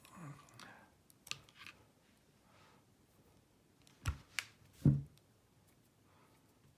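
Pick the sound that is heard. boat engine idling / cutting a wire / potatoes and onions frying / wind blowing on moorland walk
cutting a wire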